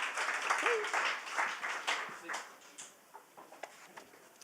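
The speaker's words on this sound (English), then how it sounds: "Give him a big round of applause, please, as he walks his way to the microphone" An audience at a storytelling evening gives a round of applause as a performer walks to the microphone, a dense burst of clapping that thins into scattered claps and fades within a few seconds, with a voice briefly heard.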